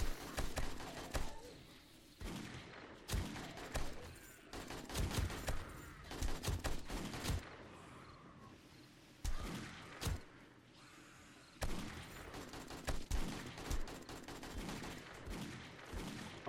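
A Desert Eagle pistol fires repeatedly in the video game 7 Days to Die during a horde night, its shots coming as sharp, spaced bursts over faint background game noise.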